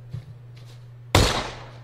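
A single loud shotgun blast in the PUBG Battlegrounds video game, a sharp crack that booms and decays, following a low steady hum and faint background noise.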